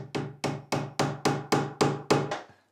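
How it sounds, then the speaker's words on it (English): A hammer drives a metal joist hanger onto a wooden joist with eight sharp, evenly spaced strikes, each loud, close and ringing briefly before the next. "they're designed to be used by people who are actually competent at hammering"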